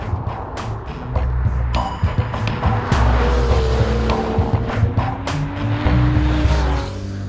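A Porsche 911 Carrera S laps an empty racetrack, its engine revving hard up and down through gear changes with tire squeal, loud and close, as the car passes by.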